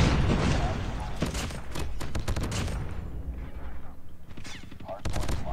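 Rapid bursts of gunfire in a shooter video game, with a green-camouflaged M13 rifle in play, cracking out in quick volleys that pause briefly before a final burst, mixed under loud game audio and voice chatter.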